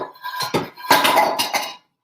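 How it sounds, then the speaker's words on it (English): Tin cans banged and clinked together in a quick run of metallic knocks and rattles, close by with no talk. "Make a lot of banging noises just to make sure they're real tin cans"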